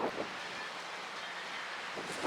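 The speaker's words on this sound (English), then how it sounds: "it'll be a little difficult with as windy as it is" Gusty wind buffets the microphone in a constant low roar at an outdoor archery range, rising slightly at the start and end, with no talking.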